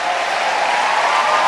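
Church congregation applauding the Lord during a French-language sermon, a dense, loud, steady wash of clapping from many hands filling the room without pause.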